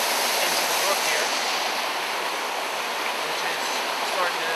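Storm water from Hurricane Irene gushes out of a drain pipe into a swollen brook, a steady loud broadband roar that stays constant and close throughout, with no talk.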